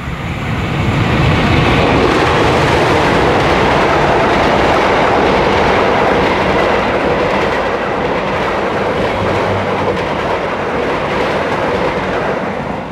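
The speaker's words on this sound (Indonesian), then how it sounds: "Bentar ada kereta." A train passes close by on the railway line, a loud, steady rumble with rail clatter that fills the whole stretch without letting up. No one speaks.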